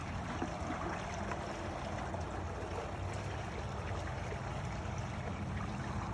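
Steady rush of water spraying over a pool cartridge filter during rinsing, a continuous broadband hiss and splash held at constant loudness throughout, with no talking.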